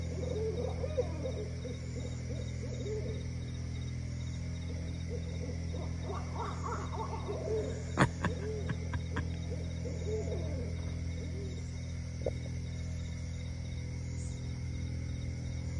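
Low, soft great horned owl hoots drift in from a distance over steady night insects and crickets at Gulf Hammock, with a few sharp knocks midway.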